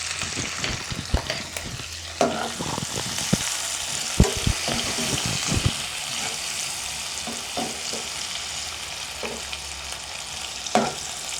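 Curry leaves and chopped onions frying in oil in a pan for chicken biryani, a steady loud sizzle broken by the sharp clatter and scrape of a spoon stirring, close up with no voices.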